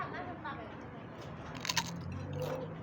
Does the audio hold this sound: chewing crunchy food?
yes